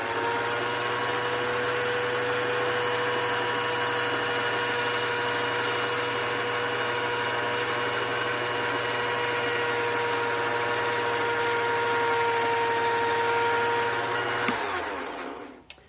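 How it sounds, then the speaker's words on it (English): Wood lathe turning a handmade magic wand at very slow speed, a steady whirring motor hum with a high tonal whine, close and constant, before spinning down and stopping at the end. "you keep the lathe at a very, very slow speed just to make sure"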